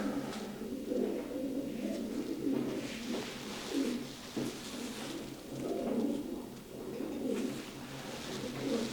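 Pigeons coo repeatedly in soft, throaty murmurs, several birds overlapping in a steady rolling rhythm, with no talking.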